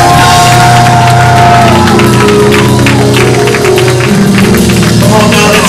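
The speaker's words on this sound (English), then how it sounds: "Come on, sweet David, give it up for your pastor." A church congregation at a pastor's anniversary service applauds and cheers, loud sustained clapping and crowd shouts over music filling the room.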